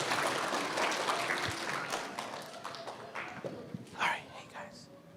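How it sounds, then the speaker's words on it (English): Audience at a Minnesota Muslim convention kids' event clapping, dense applause that thins and fades over a few seconds, leaving scattered claps, taps and murmured voices near the end. "I want everyone to give Salima a huge round of applause"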